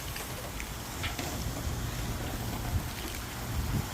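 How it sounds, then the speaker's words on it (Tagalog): Wind blowing outdoors at a backyard barbecue, a steady rushing buffeting against the microphone that holds throughout at moderate level, with no voices heard. "Ang sarap ang hangin."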